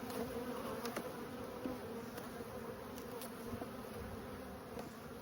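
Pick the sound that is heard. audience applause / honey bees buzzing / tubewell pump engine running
honey bees buzzing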